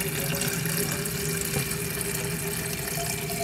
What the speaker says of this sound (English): 32 ounces, and it still has really strong water flow, so it is fixed.